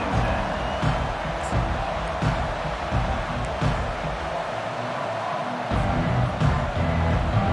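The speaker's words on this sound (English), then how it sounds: "This crowd bringing an ear-splitting welcome to their visitors." Stadium crowd noise in the college football video game NCAA 25 at a Florida vs Texas A&M game, a dense, continuous roar of cheering that holds steady throughout.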